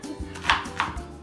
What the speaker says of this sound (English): roughly chopping this up because it's going to make me cry.